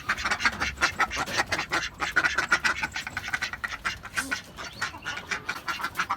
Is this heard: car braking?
no